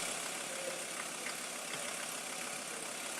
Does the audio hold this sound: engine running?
yes